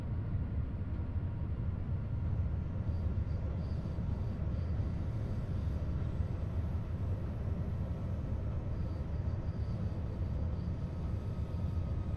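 A RABe 523 electric multiple unit runs into a station in Train Sim World 3, with a steady, dense rumble and rolling noise holding throughout, no voices over it.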